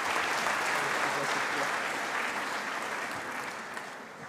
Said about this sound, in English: So let's give a round of applause for Mr. Erik Solheim.